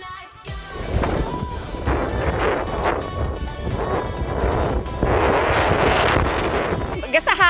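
Strong wind on Sharp Peak mountain buffets the microphone in continuous roaring gusts, with faint voices talking underneath.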